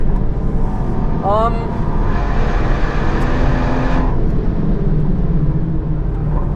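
A BMW car is driven on the Nürburgring, with a steady engine drone and road roar heard from inside the car. A brief rising chirp and a hissy rush of wind or tyres sit in the middle, and no one speaks.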